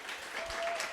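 A brief, moderately faint burst of audience applause at a panel event on supporting LGBTQ+ youth in schools.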